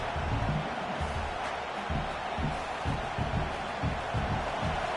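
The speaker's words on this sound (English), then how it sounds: "And this crowd coming to life here, trying to help the defense get a stop." Football stadium crowd at a college game, a broad roaring wash of cheering and noise rising behind low rumbling voices, steady and loud for the whole span.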